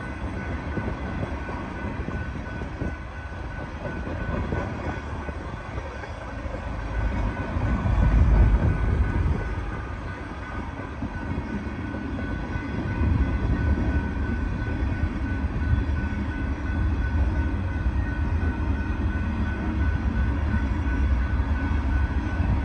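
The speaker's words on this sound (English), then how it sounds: "Yep, here comes the end of the train." A Norfolk Southern freight train hauling sand rolls past in Oconomowoc, a steady loud rumble and rattle of railcars that holds for the whole stretch with no talk over it, swelling slightly as the final cars go by.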